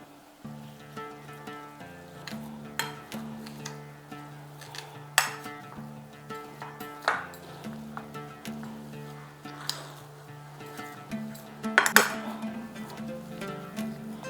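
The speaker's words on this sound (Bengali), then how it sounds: "দেখুন বেশ মোলায়েম করে মেখে নিয়েছি।" Vegetarian filling mixed by hand with cardamom powder and cornflour in a bowl, giving soft repeated scraping and clinking strokes, with a few sharper clinks near the end.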